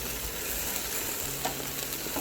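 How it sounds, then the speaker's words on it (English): Steady crackling sizzle of chicken wings cooking on a hot barbecue, a continuous hiss at moderate volume with no one talking. "You hear the sizzling."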